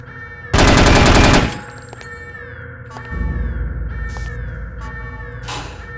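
Rapid gunfire in No One Lives Forever, a loud dense burst of automatic shots shooting out an object, followed by a lower mechanical rumble, electronic chirps and a short second rattle near the end.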